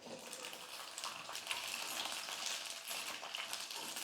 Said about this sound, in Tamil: இப்போ எண்ணெய் காஞ்சிடுச்சு, வெண்டைக்காய் சேர்த்துக்கலாம்.